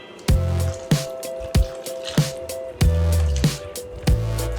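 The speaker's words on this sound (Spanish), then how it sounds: "agregamos la leche también." Milk poured into a simmering Italian-style tripe (mondongo) stew with fresh mint, giving a series of close, wet splashing and squishing bursts about once per second, each trailing into a soft bubbling liquid hiss.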